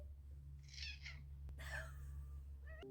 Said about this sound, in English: This is my cat, Tabby.